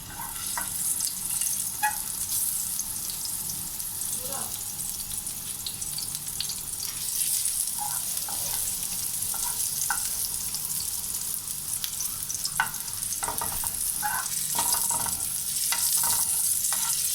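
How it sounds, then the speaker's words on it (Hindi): Onions dropped into hot oil, a single spoonful, fry with a loud, dense hiss that holds steady throughout, while scattered stirring scrapes and taps sit on top, nobody speaking. "ऑयल हमारा गर्म हो जाए तो हमने उसमें प्याज डाल देना है"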